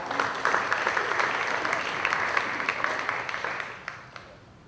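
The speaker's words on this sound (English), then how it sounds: "Let's give them a round of applause as well." Steady applause from an audience, many hands clapping continuously before thinning out and fading toward the end.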